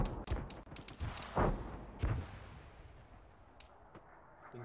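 Grad rocket artillery impacts in ArmA 3, a ragged series of sharp, booming hits spread over a few seconds, with louder blasts near the start and middle and fainter ones trailing off into a rumbling background.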